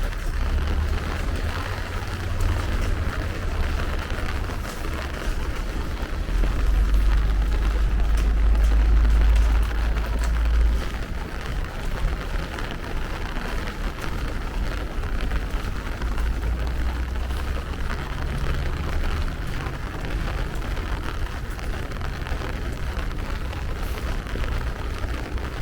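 Steady rain falls during a walk through Crown Heights, Brooklyn, as a constant hiss of drops on the pavement with low traffic rumble surging now and then underneath.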